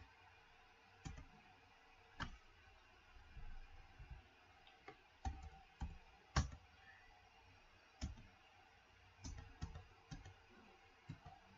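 Keyboard keys tapped in sharp, isolated clicks during an image-segmentation clustering lesson on a computer, about a dozen quick presses spaced irregularly over a quiet room, close and fairly soft.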